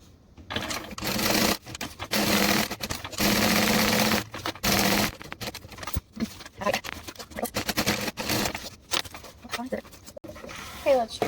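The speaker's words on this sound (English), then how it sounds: "let's sew 5/8 of an inch down the arm, 3/8 of an inch around the body" A sewing machine stitching a seam on a fabric divider, loud bursts of rapid motor-driven stitching separated by pauses, with a voice talking in between runs.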